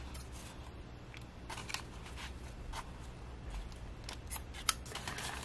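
Scissors snip through paper while trimming a handmade junk journal, a few quiet, brief cuts over a soft steady background.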